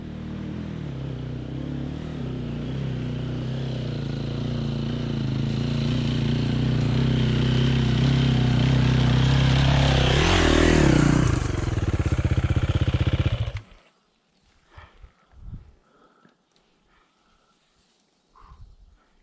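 A two-stroke motorcycle revs steadily on a forest mountain trail, rising to a strained peak as the rear wheel spins on half clutch, then cuts off abruptly, leaving quiet scuffs and faint sounds.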